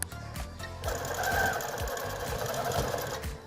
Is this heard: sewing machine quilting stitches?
yes